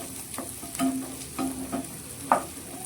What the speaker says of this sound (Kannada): ಒಂದು ನಿಮಿಷ ಹಾಗೇ ಫ್ರೈ ಮಾಡ್ಕೊಳ್ಳೋಣ